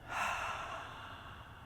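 A single slow, breathy exhale during guided breathing, soft and close, swelling quickly and then trailing off gently with no talk over it.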